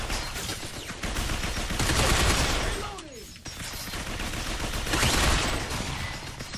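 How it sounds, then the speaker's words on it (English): Sustained gunfire in the shooter video game Binary Domain rattles in dense automatic bursts, swelling and easing with a brief lull near the middle, loud and continuous. "What is shooting at me that I don't know about?"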